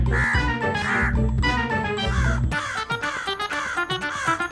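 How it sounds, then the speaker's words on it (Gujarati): A crow caws loudly several times in close succession, harsh repeated calls standing alone near the listener, trying to steal a child's snack. "પણ એક કાગડો જે આ બધું જોતો હશે એ મારા દીકરા પાસેથી નાસ્તો ચોરવાનો પ્રયત્ન કરશે."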